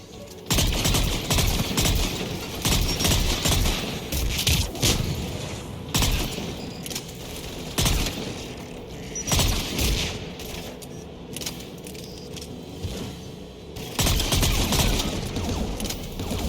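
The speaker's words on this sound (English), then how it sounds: "anti-aircraft guns are up ahead." In the video game Mass Effect, anti-aircraft guns fire in repeated bursts of heavy rapid gunfire with booming impacts, loud and close, separated by short pauses.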